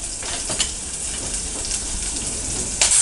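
Onion and garlic frying in a pan for sambar, a dense continuous close sizzle with faint stirring, no voices.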